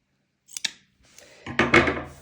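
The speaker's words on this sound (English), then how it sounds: "Yes, beautiful, beautiful scissors." Scissors snipping yarn while finishing a crocheted striped double border, two quick close snips followed by a louder rustling cut, with no talking.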